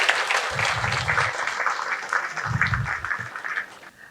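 Applause from an audience welcoming guests onto the stage at a spiritual talk event, a steady broadband patter of clapping across the whole stretch with a couple of low thumps, fading at the end.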